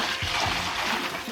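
Cold river water from a bucket poured into a hot spring, a rushing, gurgling splash with a few heavier glugs near the start, close by and continuous, with no talking.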